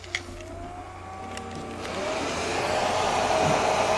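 A hair dryer drying masking fluid on a watercolor painting of Todaiji temple switches on and builds into a steady, close, loud whir that carries on to the end, with no talking.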